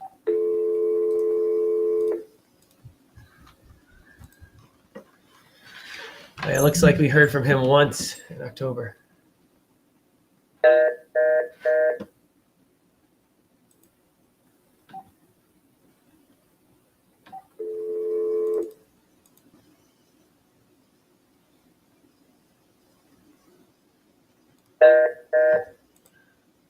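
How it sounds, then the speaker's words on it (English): A telephone dials out on a cold sales call to a lead, and repeated ringback tones sound in separate bursts with long silences between them. Someone speaks briefly in between. "let's see if we can get him on the phone"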